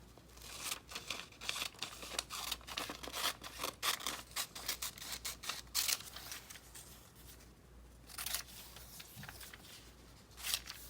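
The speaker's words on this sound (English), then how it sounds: "we can cut that up." Paper for an art journal being cut with scissors gives a rapid series of close, crisp snips and rustles, with a short pause before the cutting resumes.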